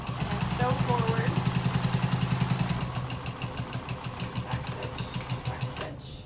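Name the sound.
sewing machine backstitching then sewing forward on a tote bag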